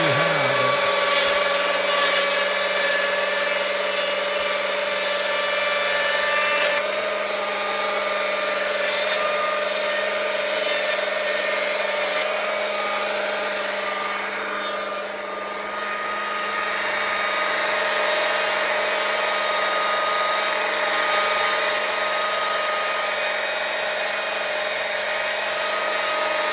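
A Stihl MSA 220 C electric chainsaw cuts through old hardwood about three to four inches thick, giving a constant high, bright motor whine with rasping chain noise that dips briefly midway before resuming, with no voices.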